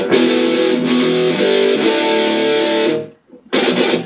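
Loud, sustained heavy distorted electric guitar chords through a Positive Grid Spark GO amplifier, with no reverb or delay, ring out, break off briefly, then come back in.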